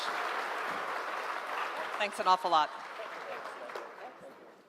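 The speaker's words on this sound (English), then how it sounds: "Warm clap for them one more time." Applause from an audience continues at a moderate level while someone speaks briefly over it, the clapping fading toward the end.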